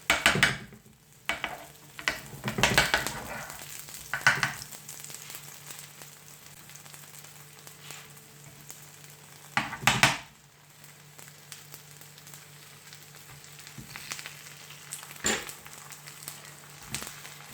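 A mooli paratha fries in ghee on a pan, a quiet sizzle under scattered scrapes and presses of a spoon, with a few louder clatters near the start and middle.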